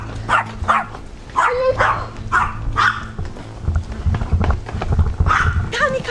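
Several dogs bark in a house at night, with a quick run of sharp, close barks and yips. Frightened people talk and call out over them.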